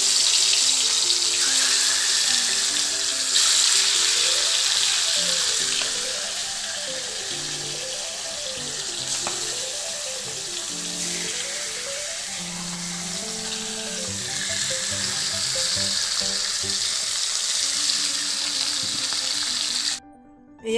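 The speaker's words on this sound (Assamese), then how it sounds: "হালধি আৰু নিমখেৰে সানি লোৱা মাছবিলাক এতিয়া মই ভাজিম।" Turmeric- and salt-marinated fish pieces frying in hot oil in a wok, a steady loud sizzle running throughout with occasional stirring and tonal background sounds beneath.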